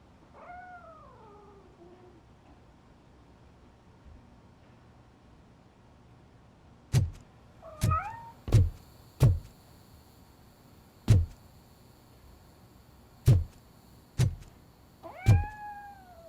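Grumpy, a cat in the Robocop video game, meows in a few clear, rising-and-falling calls near the start, middle and end, mixed with sharp, loud clicks and thumps over a quiet background.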